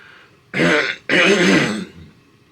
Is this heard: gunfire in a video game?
no